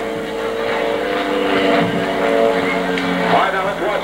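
Several propeller aircraft of an aerobatic formation team fly overhead at an airshow, a steady droning engine roar that swells slightly, with a voice commentating over it.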